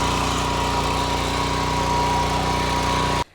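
A FarmAsia 7.5 HP power tiller engine running close by, a loud steady chugging drone with a rapid even pulse, cutting off abruptly at the end.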